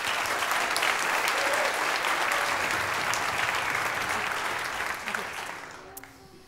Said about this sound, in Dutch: Nou, dan krijg jij een heel hard applaus.